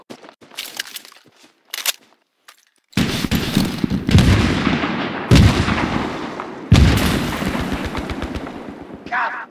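Loud, rapid machine-gun bursts rip through a Battlefield 3 firefight, long sustained volleys with sharp onsets after a few scattered earlier shots, close and dominant.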